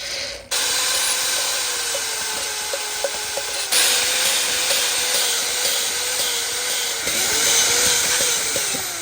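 A handheld drill spins while an LS engine valve is lapped against its seat with lapping compound, giving a steady high whining hiss with a low tonal drone, close and continuous, with brief ticks and a change in pitch partway through.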